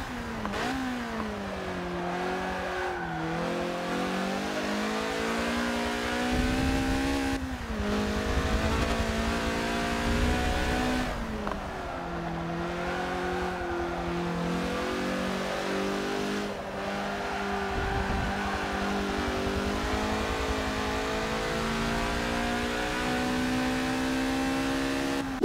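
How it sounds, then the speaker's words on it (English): A slightly modified Lotus Elise race car on race tires and lighter wheels, driven on a hot lap in Forza Motorsport 7: a loud, steady engine drone rising through the gears with repeated upshifts and revving, and no talking. "This is the hot lap of the Lotus Elise."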